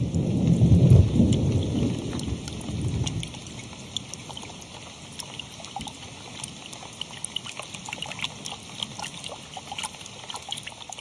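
A deep roll of thunder rumbles at the start, then fades under steady rainfall pattering and dripping on surfaces for the rest of the stretch.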